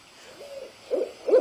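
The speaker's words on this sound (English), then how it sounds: "This sound is called hooting." A few owl hoots, the last two louder and closer together, standing alone against a quiet background.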